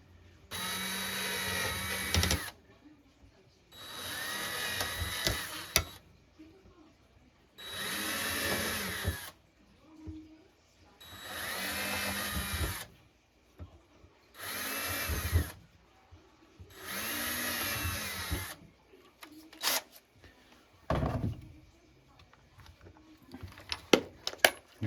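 A power drill whirs in six bursts of a few seconds each while drilling rivet holes in a Wizard of Wor arcade cabinet, separated by short pauses, fairly close, with faint clatter between and no talking.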